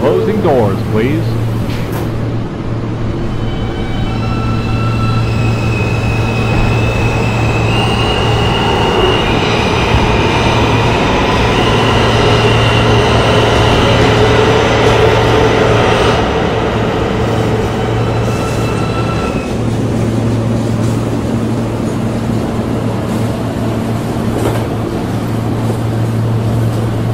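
Riding inside an R160 New York subway shuttle train in the Rockaways, a loud sustained rumble of wheels and motors runs throughout, with a steady low hum and shifting whining tones as speed changes.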